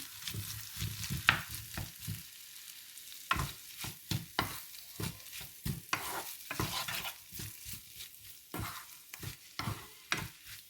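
A spatula scrapes and stirs potato filling for samosas in a pan, with repeated close, uneven strokes over a soft sizzle and no talking.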